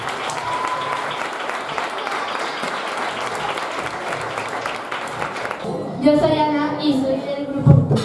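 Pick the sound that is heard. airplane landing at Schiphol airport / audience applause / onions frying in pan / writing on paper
audience applause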